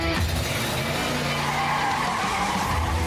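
Race car tires skid and squeal in one loud, continuous screech lasting a few seconds, with engine roar underneath and no voices.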